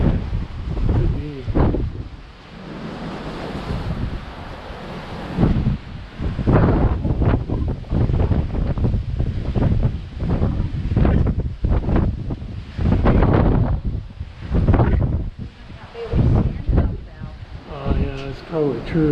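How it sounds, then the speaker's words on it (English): Strong wind buffets the microphone on the bow of a cruise ship in College Fjord, Alaska, in loud gusting roars and rumbles with rushing water, continuous and uneven throughout. "I'll bet it's really windy out on the bow."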